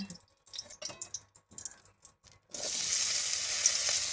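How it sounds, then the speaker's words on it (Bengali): Potatoes fry in mustard oil, with a loud, steady sizzle bursting in halfway through after a few scattered clinks and soft kitchen sounds. "এবার যাচ্ছে আর একটু সর্ষে তেল আলু ভাজার জন্য"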